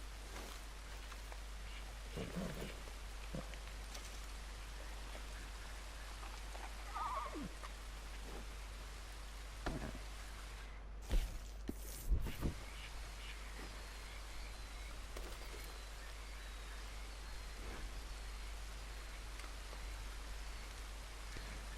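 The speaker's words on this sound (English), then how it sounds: "The sound of rain is one of my favorites." Steady rain falls softly in Red Dead Redemption 2, patters on the surface, and goes on alone at low volume. A few faint horse sounds and a low hum sit underneath.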